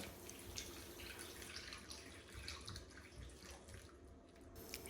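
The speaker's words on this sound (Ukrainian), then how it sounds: "Вкладаємо в мисочку та заливаємо теплою водою." Warm water, about 50 degrees, is poured into a bowl of prepared chili peppers, making a soft, steady splashing and trickling that runs for several seconds, fairly faint and close by, with no talking.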